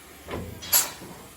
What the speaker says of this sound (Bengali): এটা হাওয়া ব্রেক দেখলেই বুঝতে পারবেন যে আওয়াজটা আসবে